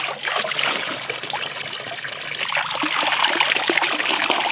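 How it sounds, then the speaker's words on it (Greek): Cold drinking water runs steadily from a spring tap at Thermopylae, a continuous close splashing trickle with no talk. "Εδώ είναι το μόνο σημείο της διαδρομής που έχει πόσιμο νερό."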